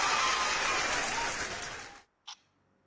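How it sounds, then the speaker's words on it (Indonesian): Studio audience applause for a singer on a televised Indonesian talent show, a dense wash of clapping for about two seconds before it cuts off abruptly, followed by a brief isolated noise. "Tepuk tangan dulu buat Tommy ya."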